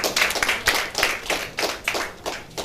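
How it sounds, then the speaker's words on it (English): An audience at a church service claps together in a steady, rhythmic beat, a burst of several crisp, fairly loud hand claps with no talk over them. "Let's clap for him."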